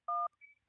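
A telephone's dual-tone dialing beep sounds on an incoming call, one steady loud tone followed by a fainter higher tone, with no talking.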